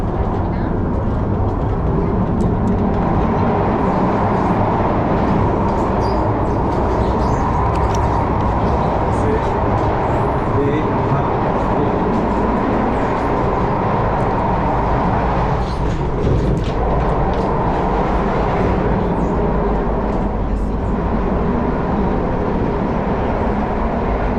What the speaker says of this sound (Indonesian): Yang aku naik ini adalah kereta api ekspres ya.